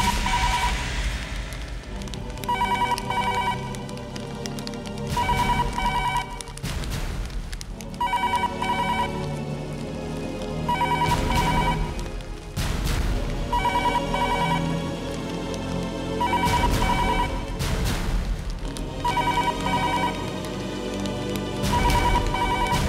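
A telephone rings repeatedly and goes unanswered, in bursts of bright trilling separated by short gaps, steady and fairly loud, with a soft rain-like hiss underneath.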